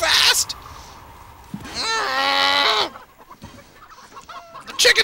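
Chicken clucks from a game, with a rising squawk in the middle, mixed with a voice talking and other game noises.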